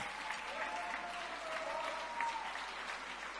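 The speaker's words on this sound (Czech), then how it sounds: "To stojí za váš obrovský potlesk" Audience applauding the newly crowned Mister Czech Republic 2022 at a pageant, a steady wash of many hands clapping at moderate distance, with a faint voice briefly audible over it.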